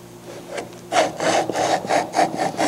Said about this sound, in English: we have to clean up the one edge here so we have a nice clean edge on that. And we do that on the shooting board.